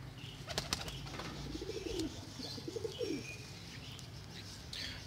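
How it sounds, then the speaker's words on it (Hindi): An Indian Zeera pigeon cooing nearby, a few short throaty coo phrases over quiet background rustle and faint distant chirps. "ज़ीरा कबूतर है।"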